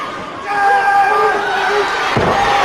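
Crowd noise at a televised British professional wrestling bout, a steady hall-filling roar of cheering spectators with a sharp thump near the end, heard close and loud with a commentator's voice running over it.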